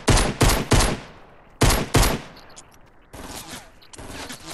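Enemy gunfire in Fortnite, with sharp bursts of rapid shots and short pauses between them, loud and close, followed by a longer, quieter stretch of steady shooting.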